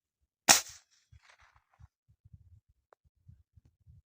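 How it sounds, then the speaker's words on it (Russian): A single sharp air rifle shot fired outdoors in a cold wind, loud and close, followed by a few faint scattered knocks and handling noises. "Давайте сделаем просто выстрел в никуда."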